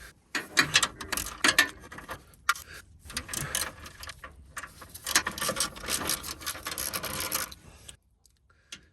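A 12mm socket on a ratchet works drive shaft bolts loose under a Toyota Tacoma, quick bursts of clicking pawl and metallic rattling up close, pausing briefly between runs and stopping near the end.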